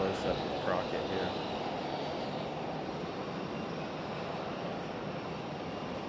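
A Boeing 737-800 airliner at Raleigh-Durham airport gives a soft, distant engine drone, a little louder at first and then steady and low, with a brief voice near the start.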